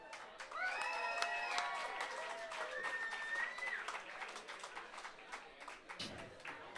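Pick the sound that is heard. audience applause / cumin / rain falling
audience applause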